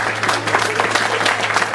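A crowd applauds at a presentation night, giving a brief burst of steady, dense clapping that sounds fairly loud and close.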